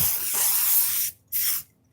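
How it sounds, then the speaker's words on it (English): Odor-removing aerosol sprayed into the air in a kitchen, two close hissing bursts, a long one followed by a short pause and a shorter second burst. "you want to get rid of the odor, spray this like in your kitchen, like in the air."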